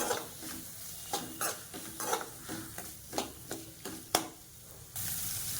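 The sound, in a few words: onions sautéing in a pan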